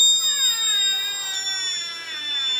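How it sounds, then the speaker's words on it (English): A homemade capacitor-driven door alarm buzzer sounds continuously once the door opens, a steady high electronic tone that slowly wavers and drifts lower as it fades. "if I open the door, it's going to the buzzer, as you'll see"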